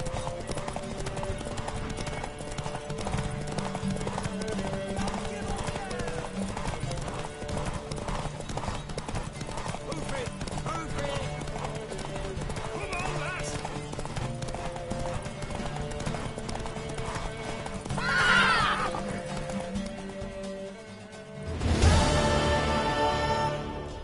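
Horse hooves clip-clop in a steady, continuous rhythm throughout a scene from the video game The Witcher 3, over a sustained tonal backdrop, with a brief rising whinny near the end followed by a louder burst of hoofbeats.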